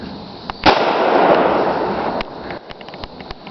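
A 12 gauge shotgun loaded with bird shot fires once at a wooden door outdoors, a single loud blast with a rolling echo, followed by a few faint clicks and knocks.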